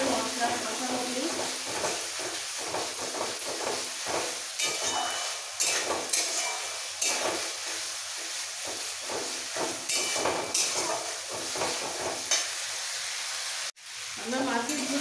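Potatoes sizzle in a pan with spices for a vetki fish curry with cauliflower, a steady frying hiss broken by stirring clatter, ending in a sudden cutoff near the close.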